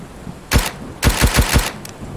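Rifle shots in the military survival game Road to Vostok: one sharp report, a pause, then a quick string of four booming shots, loud and close.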